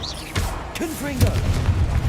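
Confringo blasting spell explosions in Hogwarts Legacy: a few quick, punchy booms and pops in rapid succession, mixed with short vocal exclamations from a character.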